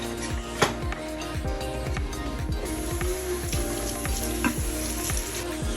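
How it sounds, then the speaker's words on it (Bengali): Chopped onion, ginger-garlic paste, turmeric, chilli and coriander powder fry in oil in a pot, giving a loud, steady sizzle with occasional scraping stirs and sharp pops throughout. "একটা হাঁড়িতে পেঁয়াজ কুচি, আদা রসুনের পেস্ট, হলুদ, মরিচের গুঁড়া, ধনিয়ার গুঁড়া, সব রেগুলার যে স্পাইসগুলো আছে এগুলো দিয়ে তেলের মধ্যে"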